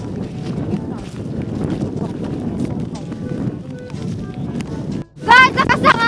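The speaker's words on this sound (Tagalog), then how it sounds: "Lakas ng hangin, no? Binabagyo kami." Strong typhoon wind roars and buffets the microphone continuously on a rural farm, with people talking underneath and a sharp gust at the end.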